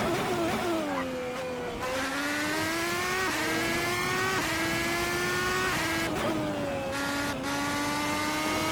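Red Bull X2010 race car lapping the 3.6-mile Monza circuit, its engine screaming at high revs with rising and falling pitch through gear shifts, loud and continuous throughout.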